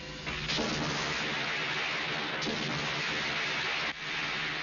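Continuous loud, broad roaring rumble with sharp bursts near the start and at intervals, bomb explosions from the 1997 Hindi action film Mrityudaata.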